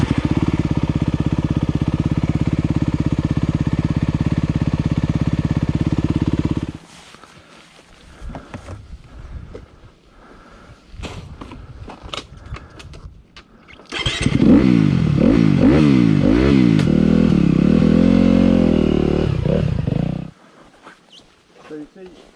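Enduro motorcycle engine idling steadily while cold, then dropping back and rising into a series of loud, close revs before cutting off, with people talking between the bursts.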